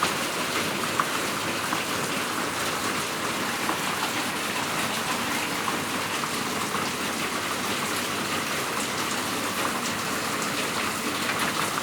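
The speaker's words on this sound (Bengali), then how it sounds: "সারা রাত বৃষ্টি হচ্ছে" Steady rain falls outside at night, an even, continuous hiss of drops on surfaces at moderate distance, with no voices or breaks.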